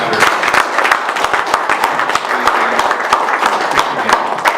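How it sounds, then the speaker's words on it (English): Dense clapping from a crowd at a club meet-and-greet in Houston, steady and sustained throughout, with sharp individual claps standing out against the broad wash of applause. "So everybody give them a round of applause."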